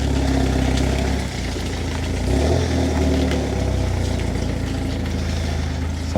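A car's engine runs steadily and close by while it tows a 95-year-old Austin Heavy 12/4, giving a continuous low, even drone with no voices over it.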